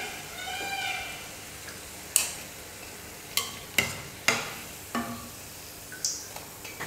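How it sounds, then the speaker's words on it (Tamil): Egg bonda snacks made with three eggs frying in hot oil: a soft, steady sizzle runs underneath while a handful of sharp clinks and taps land at uneven intervals, with no talking. "இதே போல் இருக்கிற எல்லா மாவையும் நம்ம எண்ணெயில் போட்டு பொரிச்சு எடுத்துடலாம்."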